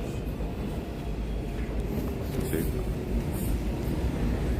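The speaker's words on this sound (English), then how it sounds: "It's a train station." Steady low rumble of a busy Tokyo train station, a continuous broadband hum of trains and crowd noise with someone briefly speaking over it.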